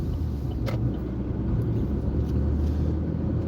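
Steady close road rumble from a car driving on a road during a driving lesson, a continuous low drone with no talk.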